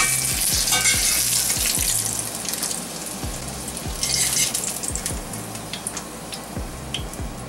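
Cutlets fry in an All-Clad D3 stainless sauté pan with a loud, dense crackling sizzle and bright spatter bursts, accompanied by repeated low knocks and scrapes of cooking utensils throughout.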